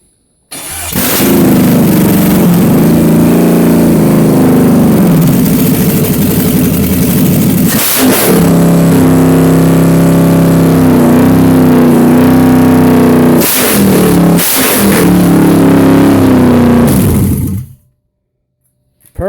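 A GM 6.0 V8 fitted in a Chevrolet K10 truck runs loud and close, holding a steady rumbling idle with throttle blips and short revs in between before it suddenly shuts off.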